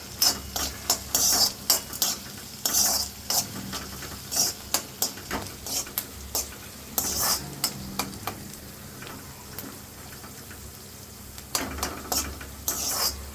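Onions frying in a pan for a thotakura (amaranth leaves) fry, a steady sizzle broken by repeated sharp scraping strokes of a spatula stirring them, close and fairly loud with no talking.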